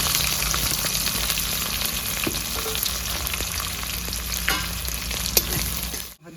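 Onions, dried red chillies, whole cumin and bay leaves frying in hot oil for ghugni give a continuous close sizzle with occasional stirring clicks, then stop abruptly at the end.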